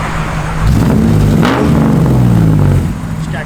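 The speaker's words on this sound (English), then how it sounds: "Give a little rev." A 1959 Chevrolet Biscayne's engine revs up loudly close by, a deep rumbling swell that holds for a couple of seconds before easing back, with a voice briefly heard over it.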